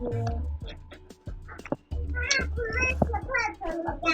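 A cat meows repeatedly in short, varied cries indoors, mixed in among a child's chatter and adult voices, with toy-like bumps in the background.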